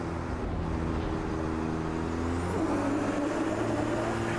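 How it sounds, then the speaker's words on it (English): A racing truck in Automobilista 2 runs with a steady engine drone, and its tyres give a low groaning whine while cornering. Everything sits fairly quiet and continuous, with a rising tonal sweep near the end. "groaning kind of sound that you get from tyres on racing trucks usually"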